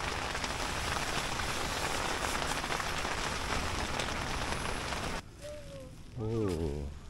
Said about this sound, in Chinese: 下雨就下到现在